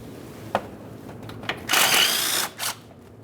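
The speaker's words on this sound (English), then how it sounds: "start off by removing the mounting bolts" A power tool zips out 13mm mounting bolts on a 1998-2011 Ford Ranger 2.3L during coolant reservoir removal, with a couple of short clicks and then a close, loud burst of about a second, followed by a brief second spurt.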